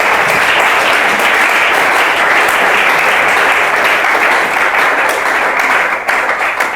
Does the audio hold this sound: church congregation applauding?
yes